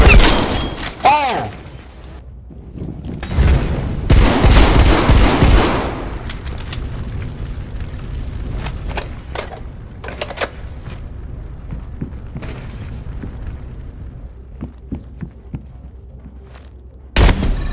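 Gunfire in the video game Call of Duty Cold War: loud bursts of automatic fire and booms, heaviest early on, then scattered sharp shots and impacts continuing under voices talking.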